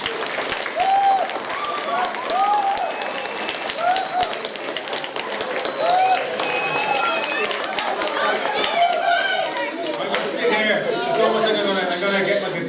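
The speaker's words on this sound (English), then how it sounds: "a big St. Thomas's round of applause to David Gillick" A school audience at St. Thomas's applauds David Gillick, a dense, steady wash of clapping that runs the whole length, with excited young voices and cheers mixed through it.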